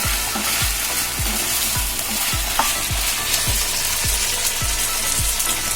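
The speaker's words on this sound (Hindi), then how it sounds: "अदरक लहसुन का पेस्ट देने के बाद 2-4 मिनट अच्छे से इसे फ्राई करना है" Mutton frying with ginger garlic paste in a pan sizzles steadily while a spoon scrapes through it in regular strokes roughly every half second, close and fairly loud.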